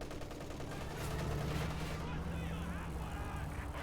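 A Katyusha rocket artillery barrage in Company of Heroes 2 roars as a dense, sustained rush of launches and blasts, loud and continuous, with a voice faintly underneath.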